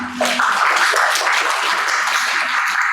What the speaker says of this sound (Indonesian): Beri aplaus buat